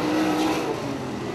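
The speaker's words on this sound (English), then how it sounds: "Friesen spinning out in turn three." Sprint car spinning out in a dirt track turn during a URC sprint car race at New Egypt Speedway, a loud steady engine roar with a sliding, slightly squealing tone throughout, close and continuous.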